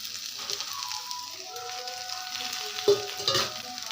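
Pieces of fried eel fish dropped into a simmering curry pan, giving a soft sizzle with stirring and a couple of sharp clatters near the end, close and fairly quiet.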